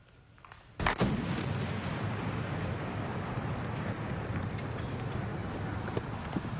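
Demolition charges on the Broadway Bridge going off in one sudden sharp blast, followed by a long roaring rumble of noise that holds steady, heard from a distance.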